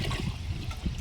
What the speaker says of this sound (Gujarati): તમે જોઈ શકો છો આપણે ગોળવાળું પાણી મિક્સ કરી દીધું